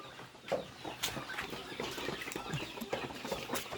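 Farm chickens cluck softly over a low, busy background while they feed, with scattered short calls rising now and then.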